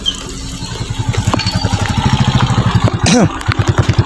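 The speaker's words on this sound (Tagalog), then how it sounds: "So yan, may motor." A motorcycle engine idles with a steady low chugging pulse, fairly close, with a brief rev or voice-like sweep near the end.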